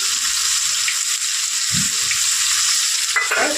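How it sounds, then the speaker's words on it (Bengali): Bay leaves, whole cumin and onion drop into hot oil and fry with a steady, loud, hissing sizzle that runs throughout, with a brief low knock of utensils partway and a short scrape near the end. "আর দেবো দুটো তেজপাতা, দিয়ে দেবো পেঁয়াজটা"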